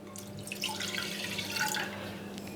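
A glass of cow's milk is poured into a pan, giving a close, trickling, splashing liquid sound for a couple of seconds with no talk.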